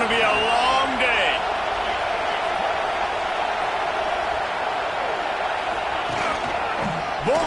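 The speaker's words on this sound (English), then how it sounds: "This crowd, full throat, splitting the eardrums and letting them know it's going to be a long day." Stadium crowd roaring at a Texas at Notre Dame college football video game matchup, a dense steady wash of noise sustained throughout with a few brief voices and whistle-like calls rising above it.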